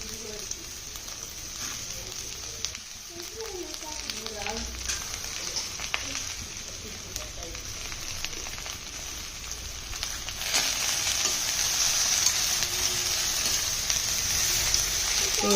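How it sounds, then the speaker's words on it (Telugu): Cut okra pieces tip into a hot pan and get stirred together, a continuous crackling sizzle that brightens and grows louder partway through, with soft scraping stirs underneath. "ఆ తర్వాత మనం కొంచెం ముందుగా కట్ చేసి పెట్టుకున్న బెండకాయ ముక్కల్ని వేసుకొని మొత్తం కలిసేలాగా తిప్పుకోవాలి."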